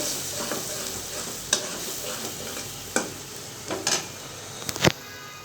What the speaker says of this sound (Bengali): একটু নেড়ে চেড়ে কষিয়ে নেবো।